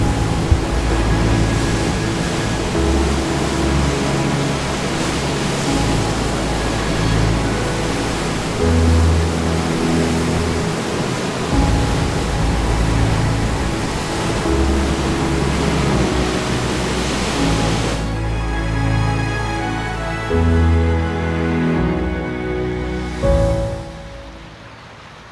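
Ocean surf rolling onto the shore at Luphathana, a steady broadband wash with periodic swells, continuous and fairly loud with no voices.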